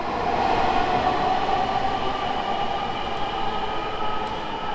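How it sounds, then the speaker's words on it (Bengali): A Dhaka metro rail train runs past a station between Karwan Bazar and Motijheel, a loud steady rumble and whine of wheels and motors close by, with no talk. "দর্শক একটি রেল চলে গেল"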